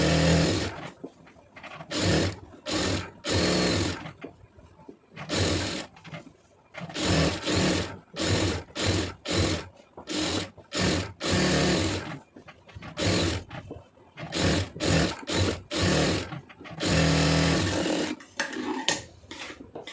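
A sewing machine stitches around a sleeve in repeated rapid bursts, loud and close, with short pauses between runs.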